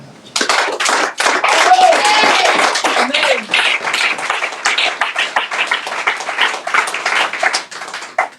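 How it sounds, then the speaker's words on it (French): A church audience claps and applauds during a sermon. The clapping is dense, continuous and fairly loud, with a voice speaking over it. "Acclame ça."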